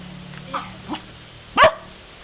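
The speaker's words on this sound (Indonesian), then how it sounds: "Itu yang gonggong." A dog barks nearby: two soft yips, then one louder, sharper bark over a low steady hum.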